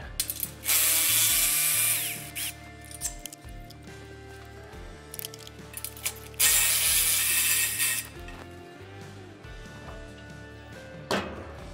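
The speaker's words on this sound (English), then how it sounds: "switching wrench and socket" A ratchet wrench with a socket clicks in bursts as it tightens bolts on a steel cattle alley panel, with rapid pawl ticking at close range, brief pauses between runs and some metallic handling noises.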